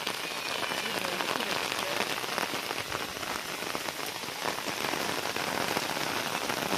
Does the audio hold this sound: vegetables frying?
no